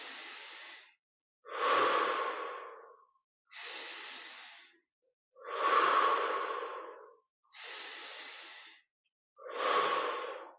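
Slow, deep breathing during a Christmas guided meditation: six long, airy breaths alternate between inhales and exhales, each a few seconds long, with brief pauses between them, close and steady.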